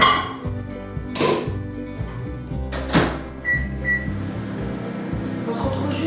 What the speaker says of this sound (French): Le chocolat 1 minute 10 au micro-ondes